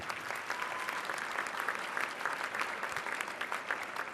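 Audience at a women's bar association installation event applauds an honoree, a steady, dense patter of many hands, heard at a distance and fairly quiet, continuing throughout.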